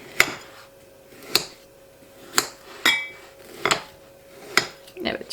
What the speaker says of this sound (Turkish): helvamı şöyle biraz küçük parçalara bölüyorum